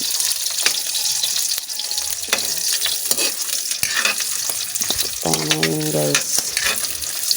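Hot dogs fry in a hot pan for a simple breakfast, a steady loud sizzle running throughout with scattered clinks and scrapes of stirring, no talking.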